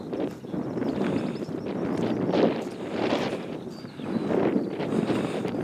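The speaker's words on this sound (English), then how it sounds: "Pity about the wind, of course, making things a bit difficult" Gusty wind buffets the microphone on an exposed hillside walk between Littleborough and Walsden, a continuous rough roar that swells and eases without a break and carries no speech.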